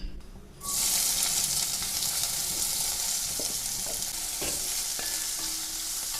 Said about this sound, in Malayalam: ഇനി വെളിച്ചെണ്ണ നന്നായിട്ട് ചൂടാവുമ്പോൾ നമുക്ക് സവാള ഇടാം